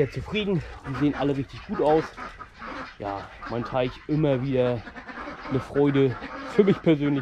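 Indian runner ducks quacking in the background at a farm pond, a busy chorus of repeated quacks running under someone speaking German close to the microphone.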